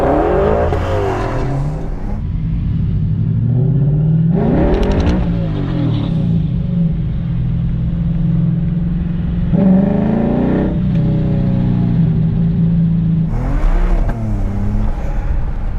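A BMW E92 335i with the N54 engine accelerating hard in a roll race, its engine note climbing through repeated rising revs broken by brief gear-change dips, loud and continuous.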